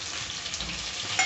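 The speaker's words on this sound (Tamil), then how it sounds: "வெங்காயமும் பூண்டும் வந்து வதங்கிருச்சு" Onion and garlic sauté in hot oil for an eggplant curry, giving a steady close sizzle and crackle throughout with faint stirring scrapes and no talk.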